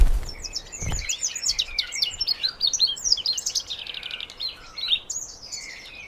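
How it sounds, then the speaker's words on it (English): A canary, a small yellow songbird, sings a continuous, rapid run of bright warbling trills and chirps, close and clear, with a brief low thump near the start. "Canaries are small yellow birds with sweet songs."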